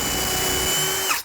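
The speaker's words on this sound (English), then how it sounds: "I'm gonna just step up the drill bit 1 size" A power drill with a stepped-up bit drives into a wooden cabinet face frame, giving a loud, steady whine at close range that slows and cuts off at the end.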